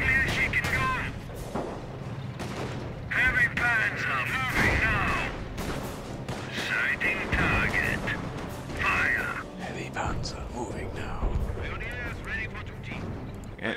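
World War I field guns firing in Company of Heroes, repeated heavy booms and blasts scattered through the whole stretch, mixed with shouted voices and battle noise.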